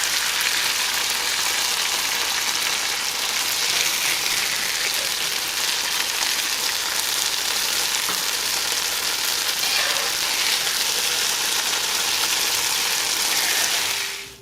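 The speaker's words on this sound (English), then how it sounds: "Now in the same pan that we made the shrimp, I'm going to be sauteing our onions" Onions sautéing in the same pan just used for shrimp, a steady, dense sizzle with a rain-like hiss that holds evenly loud and close throughout, with no talking.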